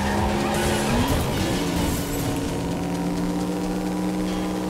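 Racing car engine drones loudly in the video game Ridge Racer Unbounded on torn-up roads, its pitch shifting steadily while tires squeal and skid in a continuous close roar.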